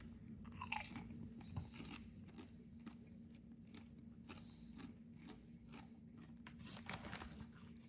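Garlic parmesan Doritos chips crunch and get chewed close to the mic in a steady run of crisp bites with no talking.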